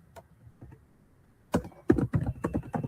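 Keystrokes on a computer keyboard while setting up a MySQL database, a few soft taps at first, then a denser burst of quick, close clicks in irregular rhythm.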